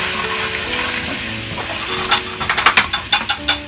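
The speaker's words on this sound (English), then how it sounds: "Mix it all well." Spices (turmeric and chili powder) being stirred in a frying pan while making dahi ni kadhi: a soft sizzle of frying, then from about two seconds a run of sharp, rhythmic scraping and clinking strokes, close and fairly loud.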